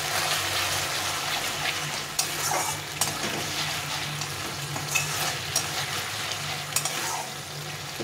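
Tomato paste and spice masala stir-fry in a pan, a soft steady sizzle with intermittent utensil scrapes and clicks scattered throughout, fairly quiet and close, no speech.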